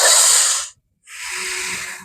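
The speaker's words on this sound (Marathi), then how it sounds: "उजव्या नाकावर ठेवून डाव्या नाकाने श्वास घ्यायचा." Two close, airy breaths during alternate-nostril yoga breathing, the first an inhale drawn through the left nostril, separated by a short silent pause, each a loud, breathy hiss lasting under a second.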